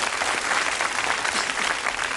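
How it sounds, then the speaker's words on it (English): A game show studio audience bursts into dense, steady applause, a loud, even roar of many hands clapping with no break, alone without talk. "that was worth a round of applause"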